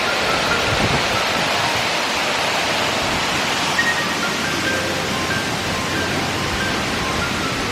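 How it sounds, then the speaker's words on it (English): Kuang Si waterfall near Luang Prabang, Laos, roars as a steady, dense rush of falling water, loud and constant throughout with no pause, a few faint tonal chirps sitting lightly over the wash. "look, the waterfall is just right there"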